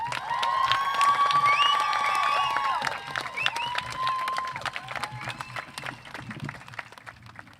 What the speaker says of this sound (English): Please stand and help me give a huge round of applause to Congressman Michael McCaul.